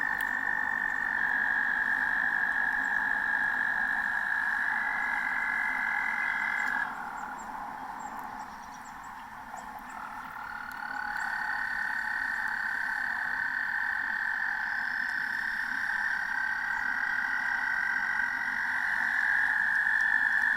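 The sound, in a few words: male toads calling in a pond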